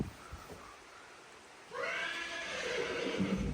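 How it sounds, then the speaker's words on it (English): A stressed horse lets out a loud, shrill whinny that bursts in midway after a quieter stretch of faint stable noise, close by and continuing to the end. "there's a bit of a stressed horse."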